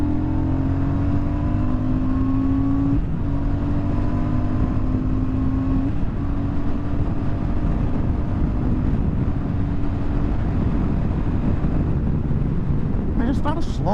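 Royal Enfield Super Meteor 650 motorcycle pulling hard at full throttle, engine note rising through gears with shifts, buried in heavy wind rush on the microphone.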